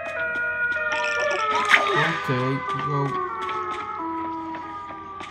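Wailing electronic siren in a video game, its rising and falling tones running steadily beneath someone talking briefly over it.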